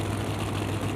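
An 864 cubic inch screw-blown drag racing engine with four-stage nitrous in a Chicago Wise Guys car at Great Lakes Dragaway, idling with a loud, steady low rumble and a constant drone close by, no talk heard.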